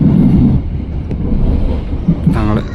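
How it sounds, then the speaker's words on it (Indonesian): A mixed economy-executive train runs straight through track 2 at Cirebon station, a steady low rolling rumble throughout with a brief brighter rattle near the end. "Nah, melintas langsung jalur 2 stasiun Cirebon."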